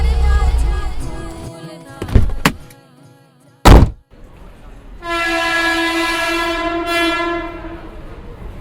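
On a Bengal railway, a train rumbles past close by with clanks and sharp bangs, then a loud, sustained horn blares for about three seconds with a brief second blast.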